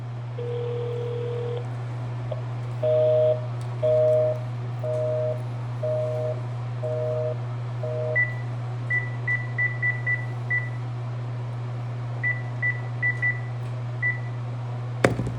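Keypad dialing tones from an automated telephone menu: a long tone, then a regular series of paired beeps, followed by scattered short higher beeps, all over a steady low hum.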